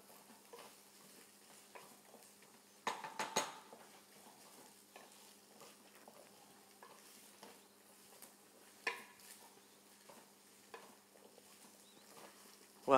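Food fries quietly in a pan with tomatoes, a low steady sizzle broken by occasional stirring scrapes and a few clinks of a utensil, with no talk.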